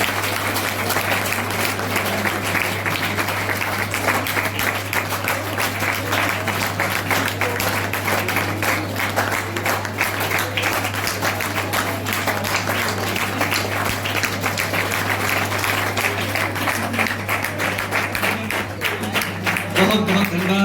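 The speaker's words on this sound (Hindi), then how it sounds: "जोरदार तालियां बजती रहनी चाहिए।" A university audience at the foundation day ceremony of Raja Mansingh Tomar University in Gwalior applauds loudly, the dense clapping holding steady for about twenty seconds over a constant electrical hum.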